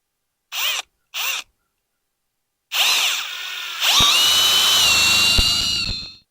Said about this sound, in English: Let's see if we can get the top in, if we can get this drill to work.